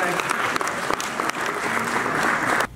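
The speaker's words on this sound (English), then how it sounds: "You all deserve a round of applause" A room full of attendees at a community security meeting with police breaks into a round of applause, dense steady clapping that holds evenly for a few seconds, then stops abruptly.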